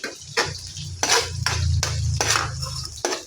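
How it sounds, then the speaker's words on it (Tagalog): Ground meat dropped into a hot pan and stirred for ginisang repolyo with shrimp, a few scraping clatters of a spatula against the pan over a low sizzle. "Yan, lagay na natin itong giniling."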